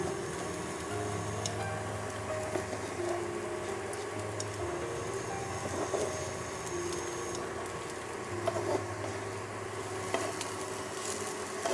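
Semolina frying and being stirred in a pan over a low flame, a steady soft sizzle with faint scraping and light ticking throughout, no voices.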